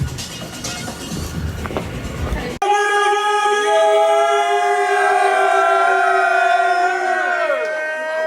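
A fire alarm goes off during a Halloween performance: after a few seconds of crowd noise, a loud steady wailing alarm takes over and sounds continuously at close range.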